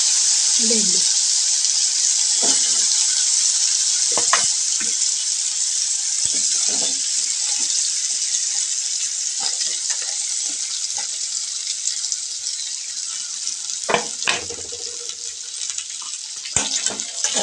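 Turmeric and asafoetida hit hot tempering oil while making stuffed masala okra, giving a steady close sizzling hiss broken by occasional sharp utensil clinks and taps.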